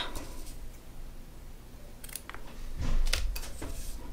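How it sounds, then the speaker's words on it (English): Scissors snip through crochet yarn for a bee-themed beanie, giving a few quick, close cutting clicks around the middle and end against low room noise, with no talk. "just going to cut the yarn"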